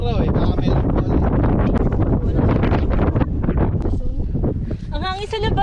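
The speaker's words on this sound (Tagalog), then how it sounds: "Ang hangin sa labas mga bes!" Strong wind buffets the microphone in loud, gusty roars, with voices talking through the blustery noise outdoors at a beach resort on Tayabas Bay, Quezon Province.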